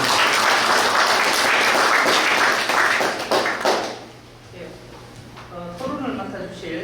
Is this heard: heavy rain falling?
no